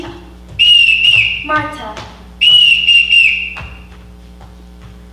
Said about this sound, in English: Well, I won't have to whistle for them.